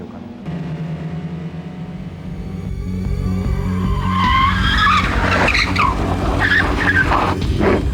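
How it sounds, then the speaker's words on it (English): Racing car tires skid on a dirt track in the Gran Turismo 2 video game, a loud continuous engine drone building into squealing, sliding tire noise that dominates throughout. "The cars will be able to skid around."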